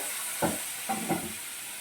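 A steady hiss of lemon pickle liquid with vinegar simmering in a pan, with a few soft bubbling pops rising through it.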